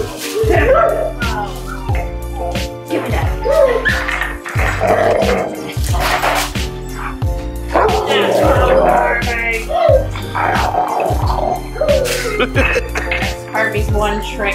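A rescue pitbull growls playfully over a bone, letting out continuous rumbling growls mixed with whimpers and yips, close and loud over a rhythmic thumping music beat, with people talking at times.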